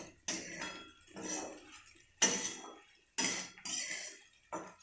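A metal spoon stirs and mixes khichdi in a pot, giving several distinct scraping, clinking strokes in an irregular rhythm, close and clear with quiet gaps between.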